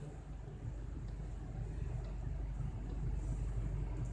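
DC motor controlled by an AT89C51ED2 microcontroller running at reduced speed, a steady low hum and rumble that holds constant, faint, with no speech.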